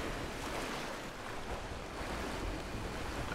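Small rushing river rapids in the Rise of the Tomb Raider game: a steady, dense wash of flowing water, fairly close and even, alone with no talk.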